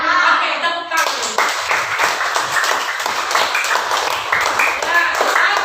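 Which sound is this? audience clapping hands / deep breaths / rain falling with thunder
audience clapping hands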